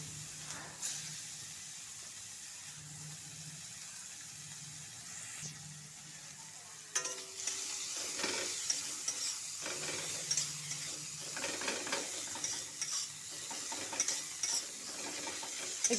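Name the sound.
chopped onion frying in oil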